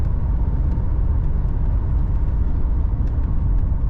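A 1985 Buick LeSabre Limited Collectors Edition engine hums steadily from inside the moving car, with a low rumble of road noise and no talking.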